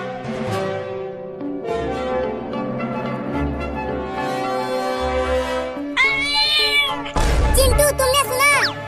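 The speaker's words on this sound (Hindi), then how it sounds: "वो छोटी बिल्ली अभी अभी बोली।" Soft high-pitched meows come from a small kitten, first under a melodic musical backdrop, then a few clearer, louder cries near the end.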